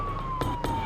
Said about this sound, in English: Dr. Holland and Janine race with her by ambulance to the ER.